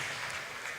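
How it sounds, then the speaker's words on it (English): Conference audience applauding at an international professional conference, a steady wash of many hands clapping close by, brief and evenly sustained with no voices on top. "Let's keep the round of applause going, please."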